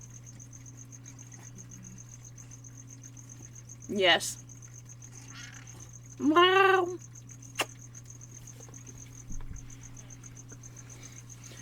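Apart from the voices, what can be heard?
crickets chirping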